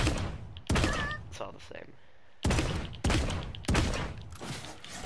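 Gunshots fire in Realm Royale, several loud, sharp single blasts spaced about a second apart, alternating with a player talking in between.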